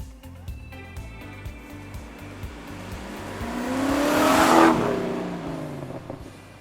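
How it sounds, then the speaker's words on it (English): A Rover 3500 SD1 V8 car engine revs up to a loud roaring peak and then falls away, over a steady rhythmic low thumping. "My favourite feature on this car is probably the noise it makes."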